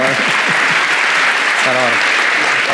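Loud, sustained audience applause greeting a guest arriving on stage, a thick clapping roar throughout with a voice speaking over it at moments.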